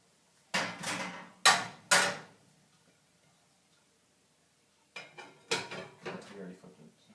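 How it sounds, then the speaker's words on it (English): A frying pan of Spanish egg tortilla is covered and the tortilla flipped onto a plate, giving two clusters of close metallic and ceramic clatters separated by a quiet pause. No voices. "Cubran la sartén y volteen el tortilla en el plato"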